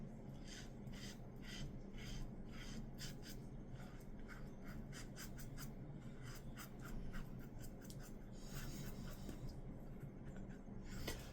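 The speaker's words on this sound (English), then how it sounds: "do you get the satisfaction of hearing the feedback after when you're shaving?" A Merkur 34C safety razor scrapes across facial stubble in short, repeated crackling strokes, faint and close, with a quiet steady hiss underneath.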